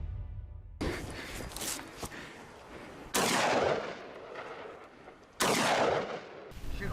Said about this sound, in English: Continuous shooting.